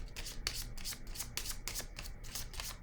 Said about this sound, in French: je vais déposer une carte sur l'ombre